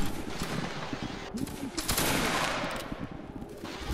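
Musket volley fire in a Napoleonic-era Waterloo battle video game, dense crackling gunfire rolling continuously for several seconds with bursts layered over one another, with faint voices in the mix.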